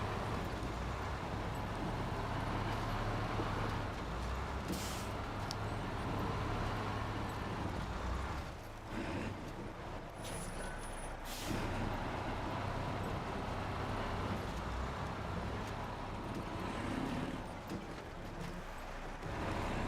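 A heavy truck engine in the video game SnowRunner rumbles continuously with a low, throaty drone that dips and surges as it strains, with a few brief clunks over the steady roar.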